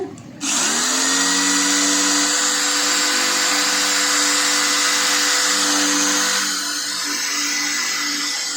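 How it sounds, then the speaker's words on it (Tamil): After a brief pause, a power drill spins up and runs continuously at a steady high whine while drilling out a rivet on a number plate, easing off slightly near the end, with no voices. "இப்போ அதே மாதிரி இந்த சைடும் ட்ரில் பண்ணுறோம்."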